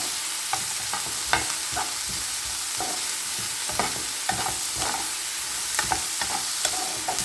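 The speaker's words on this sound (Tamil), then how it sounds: "அதை அப்படியே நல்லா வதக்கி எடுத்துக்கலாம்." Onions sautéing with salt in a pan for a Hyderabad-style paneer masala base, stirred with a utensil. Steady soft frying hiss sits under repeated scraping strokes at an irregular rhythm, close up, with no talking.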